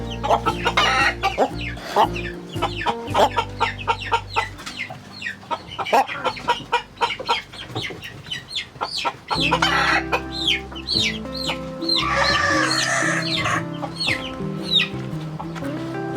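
Chickens cluck busily and a rooster crows, close by, with a low steady hum running underneath the birds.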